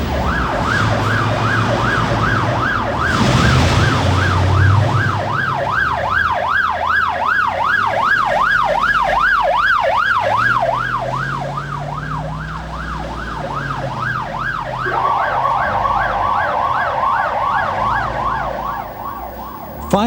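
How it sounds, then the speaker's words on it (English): Fire engines race to an emergency with sirens blaring, a loud wailing tone sweeping up and down steadily throughout, shifting to a faster pattern near the end over rumbling road traffic. "With their sirens blaring and blue lights flashing, they waste no time on their way to the scene."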